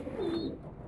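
Pigeons kept for breeding give a single soft, throaty coo, close by and fairly quiet, under a faint background hush.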